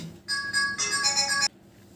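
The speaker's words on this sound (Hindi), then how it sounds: "फोन आ गया बीच में" A phone ringtone plays indoors, a bright repeating electronic melody of sustained tones lasting about a second and a quarter, loud and close, then cutting off abruptly into quiet room tone.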